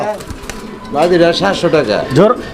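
Fancy pigeons, sold in breeding pairs, coo in a deep rolling burble from nearby birds, overlapping with people talking in the background.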